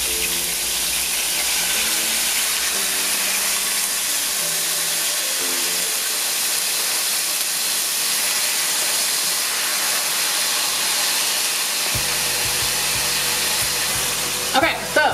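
Chopped chicken sizzles steadily in a hot pan, a continuous bright hiss that carries on without a break.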